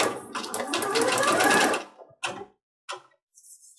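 A sewing machine stitches a quilt piece, running in a fast, close whir for about two seconds, then stopping and giving a few brief stitching bursts with pauses between them.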